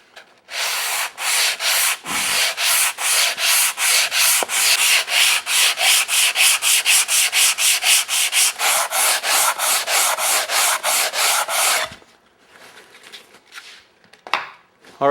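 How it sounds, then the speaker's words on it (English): A sanding block is worked over a wooden wainscoting panel with a 15-degree edge in a steady, loud back-and-forth scrubbing rhythm close up. The strokes continue for about twelve seconds, then give way to quieter handling noises. "Now all I have to do is sand this to fit, or sand it to take the saw marks off."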